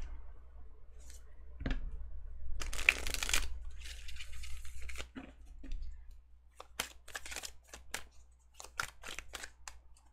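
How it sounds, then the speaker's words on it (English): Tarot cards being shuffled by hand, a series of soft crisp riffling and clicking bursts scattered over a low hum, close but quiet, with no speech. "Apparently my bad shuffling."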